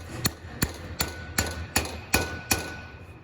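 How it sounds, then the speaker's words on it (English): A hammer drives a wheel bearing seal into its hub in seven sharp, evenly spaced metallic strikes, each followed by a short ringing decay, close and alone. "hammer the seal down into place"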